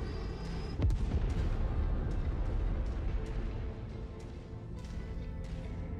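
Mech weapons firing in the video game Mechwarrior 5, heavy booming blasts with one sharp loud shot near the start followed by rumbling, layered cannon and laser fire that fades slightly toward the end.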